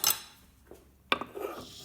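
Chopped onion tipped from a board into a pan for a vegan burger: a sharp clatter of utensil and pan at the start, a second metallic knock midway, then a soft brief scrape, close and fairly quiet.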